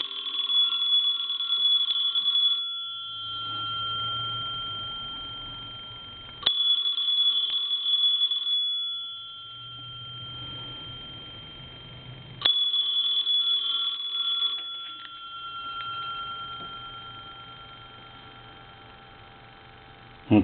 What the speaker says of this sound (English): We're going to ring the phone.